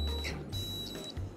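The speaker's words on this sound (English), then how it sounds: "When we touch the buzzer to the copper and zinc, you'll hear the sound of an alarm." A small hobby-store buzzer powered by a homemade lemon battery with copper and zinc electrodes gives a thin, steady high-pitched whine that runs continuously, with a brief break partway through, close and clear.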